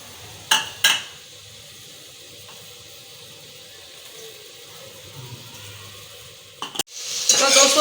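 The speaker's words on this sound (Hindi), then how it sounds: "अब इसके अंदर मैं ये चिकन को फ्राई कर लूँगी।" Chicken pieces fry in hot oil in a home kitchen pot, giving a soft steady sizzle with a few sharp clanks of a spoon or utensil near the start and end.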